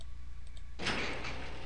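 In GTA Vice City, a low ambient hum holds steady until a door suddenly opens with a bright whooshing slide that rings on for under a second, all without speech.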